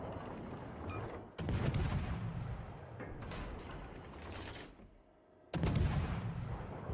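Warship main guns fire shells in World of Warships Legends, with heavy booming salvos that roll on for a few seconds before the next blast breaks in.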